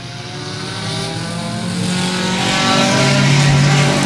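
Junior sedan race cars, among them a Daihatsu Charade, pull away from the start line with a loud, layered engine roar that rises steadily as the field accelerates.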